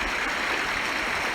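River water rushes steadily through the narrow canyon of The Narrows, a dense, close, continuous wash of flowing water with no voices.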